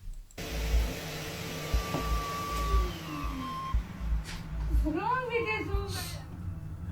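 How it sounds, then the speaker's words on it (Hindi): Vacuum cleaner droning steadily inside a house, a constant motor hum with whining tones that rise and sweep, and a brief warbling squeal toward the end. "इस वैक्यूम क्लीनर में मानो किसी ने जान फूंक दी थी।"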